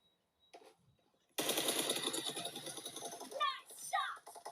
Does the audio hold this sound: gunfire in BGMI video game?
yes